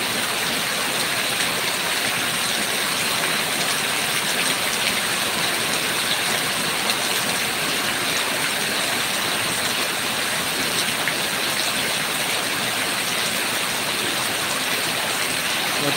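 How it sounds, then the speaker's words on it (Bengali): Heavy rain pours steadily outside a room lit by a tube light, the first big downpour after three months, making a dense, loud, unbroken roar with no break for the whole stretch. "প্রচণ্ড পানি হচ্ছে ভাই,"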